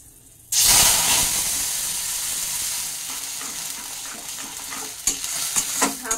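Black cumin tempering, fried until smoking, poured into mashed banana stem bhorta, bursting into a loud, sudden sizzle and hiss that stays steady, with a few stirring scrapes near the end.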